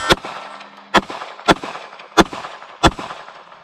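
Shots from a Palmetto State Armory Dagger pistol, a Glock-pattern gun fitted with a budget trigger, fired at outdoor steel targets: five sharp, loud close cracks spaced roughly half a second to a second apart, with faint ringing between them.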